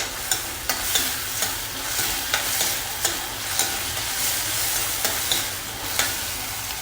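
Capsicum sautés in a pan with a steady hissing sizzle, broken by regular scraping taps as a spatula stirs it roughly every half second to second.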